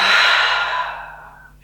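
A long, deep exhale during a guided breathing exercise, a loud breathy rush of air that fades steadily over under two seconds, heard alone and close up.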